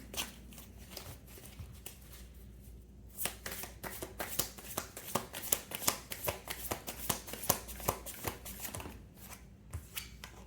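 A deck of tarot cards is shuffled in close, steady rustling bursts with quick papery slaps, repeating over several seconds.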